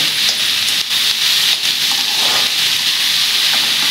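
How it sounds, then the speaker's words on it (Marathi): Onion sautéing in a pan over a medium gas flame, a steady loud hiss and sizzle running throughout, with a few faint clicks and stirring scrapes. "आता आपण मीडियम गॅसवरती हा कांदा 1 ते 2 मिनिटाचा थोडासा परतून घ्यायचा आहे।"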